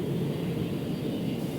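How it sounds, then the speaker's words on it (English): A large cargo jet airplane flies overhead, giving a steady, continuous low roar with no breaks or variation. "Cargo jets like this one circle the globe 24 hours a day, day and night"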